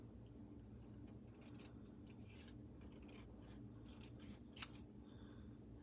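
Scissors snip down through fabric from a quilting kit, a series of quiet close crisp cuts in uneven rhythm over a low steady room hum, with one sharper snip near the end.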